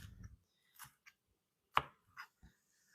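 A knife cuts through pan-seared gyro meat on a cutting board in a few separate, crisp strokes, each a short close thud-and-scrape against quiet.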